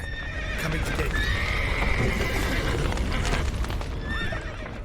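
Horses in The Witcher 3: Wild Hunt whinny twice, first in a long, wavering neigh and later in a shorter one, over a dense, rumbling background of game noise.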